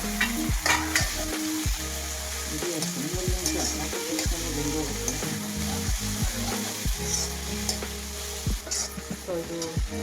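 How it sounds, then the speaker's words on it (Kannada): Diced potato and capsicum sizzle and fry in a pan while being stirred, with steady frying hiss and repeated scraping, clattering stirs of a spoon throughout, loud and close; no talk. "ಸೊ ಕ್ಯಾಪ್ಸಿಕಮ್ ಫ್ರೈ ಆಗಿದೆ."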